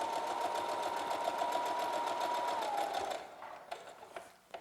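A sewing machine runs in a steady, continuous whir as it stitches down the edge of a cloth face mask with fabric ties, then stops abruptly near the end, leaving a few faint handling clicks.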